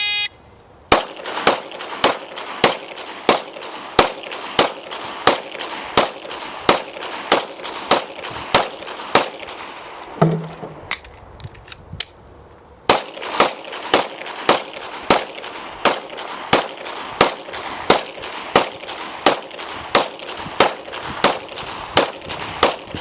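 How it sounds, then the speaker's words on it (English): Sharp, evenly spaced gunshots from a shooter emptying two 15-round magazines at three targets ring out in a steady rhythm, pausing briefly midway for a magazine change before the second string of shots resumes. "Christy is going to demonstrate by shooting the 2 15-round magazines at our 3"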